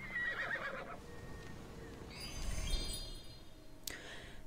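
Horses whinny and neigh in the video game Immortals Fenyx Rising, one high call near the start and another sharp call toward the end, over steady game ambience without talk.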